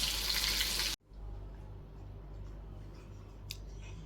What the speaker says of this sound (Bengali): সাদা তেলে মাছ ভাজা বসিয়েছি